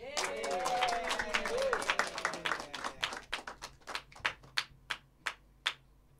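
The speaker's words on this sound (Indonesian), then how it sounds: "Kita beri tepuk tangan yang meriah dari Jakarta ya" An audience at an open-mic show applauds a ventriloquist act, first a dense burst of clapping under a voice, then thinning out into a few scattered, separate claps.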